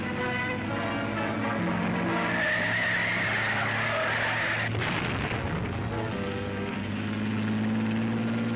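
Tyres skid and squeal during a car chase, a long rising screech over loud roaring engine noise with a sharp crash-like burst midway, then the engine keeps droning.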